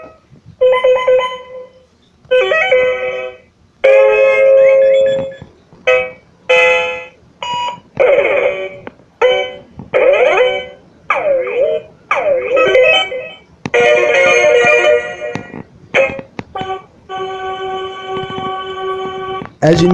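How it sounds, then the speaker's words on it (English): Electronic beeps, tones and short melodic jingles from a Simon Air touch-free handheld game, played in quick succession with bursts of varied pitch separated by brief gaps, loud and close. "these are all the sounds that are used in the Simon Air"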